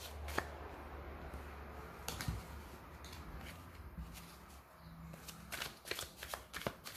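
Tarot cards shuffled for a card reading: a quiet, close run of soft riffling and flicking taps, with sharper card snaps clustered near the end and no talk.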